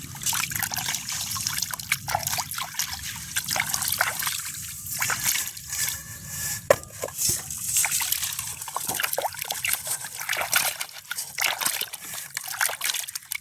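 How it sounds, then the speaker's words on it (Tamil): Pond water runs steadily along an irrigation channel beside a house, carried toward paddy fields, with a continuous trickling, sloshing flow close by. "நல்லா அங்கட வாய்க்காலில் நல்ல குளத்து தண்ணி பாயுது"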